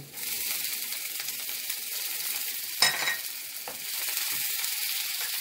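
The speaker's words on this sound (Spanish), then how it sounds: "Vamos a esperar que se sofría. Lo removemos para que se ponga mejor." Sofrito sizzling in a pan for moro de gandules, a steady hiss of frying with a brief scrape and clatter of stirring partway through.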